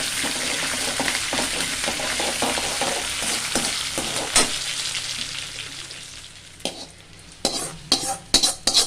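Curry leaves and asafoetida frying in hot oil make a dense close sizzle, with stirring and utensil clinks against the pan growing more distinct as the sizzle fades toward the end.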